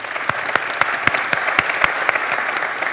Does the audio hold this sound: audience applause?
yes